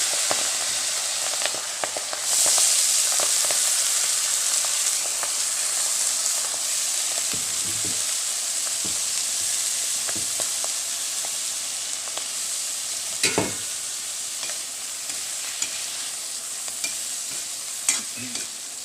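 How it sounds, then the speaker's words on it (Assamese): Turmeric and food frying in a hot pan on a gas stove, a steady sizzle with occasional stirring scrapes and sharp pops, close and continuous, no talk. "এইখিনি মই এনেকৈ অকণমান সময় ভাজি ল'ম"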